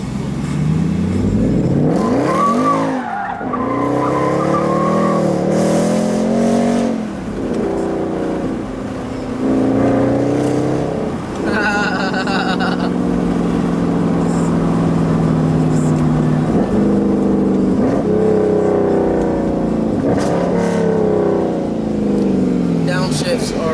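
A Mercedes C63 AMG with the P31 Development Package accelerates hard with traction control off, its engine note climbing and dropping through gear changes, loud and close, while someone talks over it.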